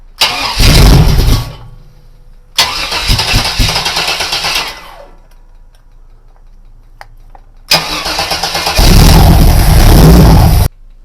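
Supercharged Chevy small-block V8 with uncapped headers, loud and close, firing in three long roaring bursts separated by quieter lulls where it settles toward an idle.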